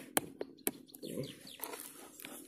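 A few sharp bird chirps and calls ring out near the start, followed by scattered softer calls and rustling with a faint voice-like murmur.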